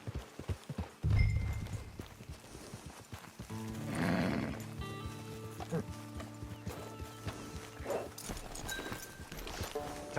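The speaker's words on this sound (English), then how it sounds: "Get your horse." A horse whinnies and its hooves clop in Red Dead Online, a sharp snort followed by a loud neigh and scattered hoof steps near the camp, with little talk.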